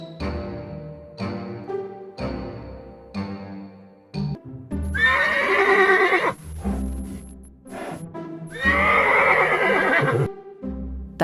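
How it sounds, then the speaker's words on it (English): A horse neighs loudly and repeatedly: shorter whinnies at first, then two long, shrill, quavering neighs with snorting breaths between them, close by. "That's right, it's a horse."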